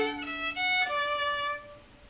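A bowed cello plays a rich triple-stop chord from a Bach bourrée that moves into a quick trill on the upper notes, then fades, heard close and alone.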